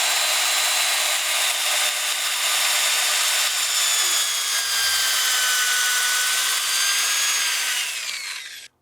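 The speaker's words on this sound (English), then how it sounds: "Now I want to blend it all together with the lathe running." A wood lathe runs steadily while a bowl is turned, its sustained hum joined by a bright, continuous scraping hiss of the tool cutting wood, loud and unbroken until the machine cuts off at the end.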